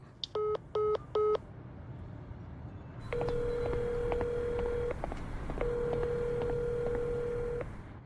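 Three short touch-tone beeps in quick succession, then two longer steady telephone tones separated by a brief pause, clear and close.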